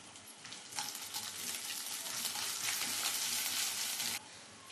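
Ginger and dried red chilies sizzle in hot oil in a pan while being stirred, a steady close crackling hiss with occasional scraping, dropping slightly at the end, no talking.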